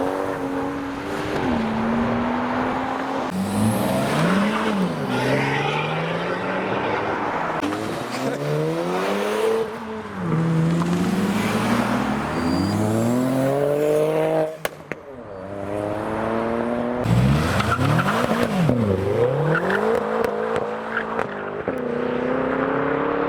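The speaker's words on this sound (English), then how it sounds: "As the Focus ST drives past, another M140i arrives." A modified BMW M140i leaves a car show, engine rising and falling through repeated revs and gear changes as it pulls away past other cars. Voices and crowd noise sound faintly underneath.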